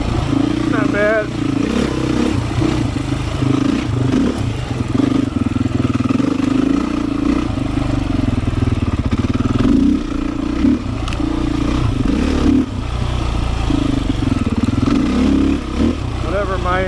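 A Beta 500 dirt bike engine runs steadily and loud throughout, a continuous mid-low drone with slight rises and dips as the bike is ridden, a voice occasionally heard over it.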